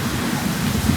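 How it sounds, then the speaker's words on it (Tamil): Steady rain falls during a motorcycle road trip from Chennai toward Murudeshwar, a dense, even broadband hiss with low rumbling underneath, loud and continuous throughout with no voices. "மழையும் ஆரம்பிச்சிட்டு"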